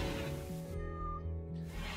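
A cat meows inside the RimWorld video game, a short game-sound cry standing out over steady background music and ambient tones.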